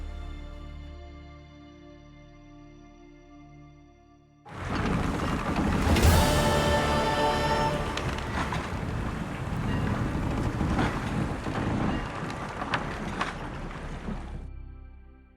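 Sailing ship out at sea in The Witcher 3, a steady roar of wind and rushing water that starts abruptly after a quiet stretch and holds loud and dense to the end, with gusting surges.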